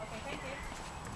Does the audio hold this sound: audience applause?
no